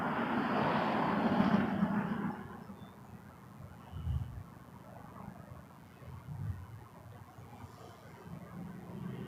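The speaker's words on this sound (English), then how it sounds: "Max 8 from Halifax. About to land." A Boeing 737 Max 8 arriving from Halifax lands on runway 24 left at Toronto Pearson: a loud, broad jet roar fills the first two seconds, then eases into a softer, more distant rumble that rises and falls a little.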